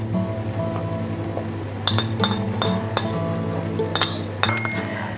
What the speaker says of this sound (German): Ich richte jetzt einmal die Gläser her und da füllen wir dann die Kürbismarmelade ein